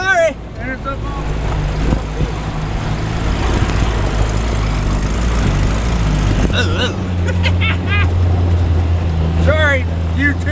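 An off-road vehicle churns along a bumpy snowy trail in Oregon, its engine droning loudly throughout with rattles and jolts, while a person speaks and exclaims over it.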